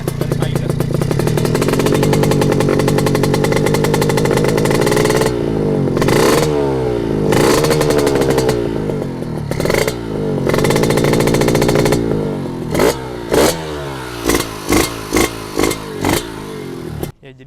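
A Honda Tiger motorcycle engine, hard to start when cold, runs loud and close with a clattery idle, revving up and down in several surges before a series of short sharp blips near the end.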